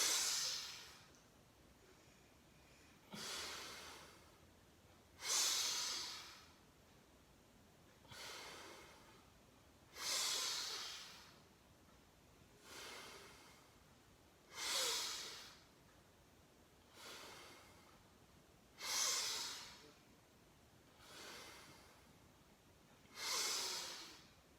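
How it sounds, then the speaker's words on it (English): Bhastrika yoga breathing in a class: loud, forceful breaths through the nose come as ten or so hissing bursts spaced a few seconds apart, each a sharp inhale or exhale, close up with quiet between them. "You will inhale fully into your lungs as hands will go back. Neck will also go back. And when you come in the front, you will exhale."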